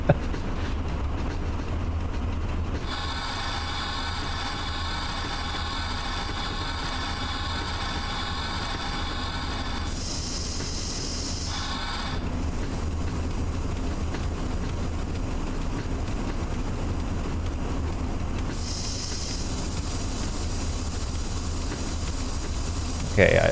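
Simulated train engine in the video game Train Driver 2, a steady low rumble with idling hum running throughout, joined by bright tonal whines and hiss in stretches, heard at moderate level with no talk.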